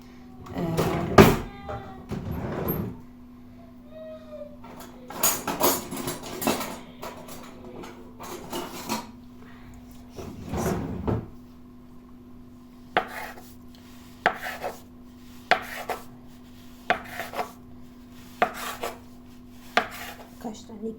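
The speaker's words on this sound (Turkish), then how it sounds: "bunu bir bıçak yardımıyla keselim" A knife cutting food against a board, with scattered crisp chops and scraping at first, then a run of evenly spaced sharp cuts, close by and fairly quiet, with no talking.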